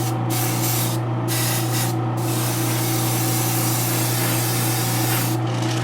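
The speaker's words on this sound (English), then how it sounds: "the reason why I'm using the smaller airbrush to do it is because we only have sections" A small airbrush spraying paint onto a premium format figure, a continuous close hiss with a few brief pauses where the spray stops and restarts, loud and alone.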